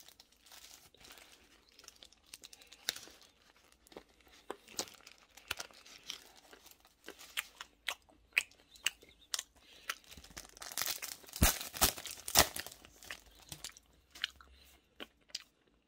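Snorlax Pokémon bread being eaten, with crinkly wrapper crumpling and tearing, then close, soft bites and chewing; the loudest crunching and crinkling bursts come near the end, with no talking.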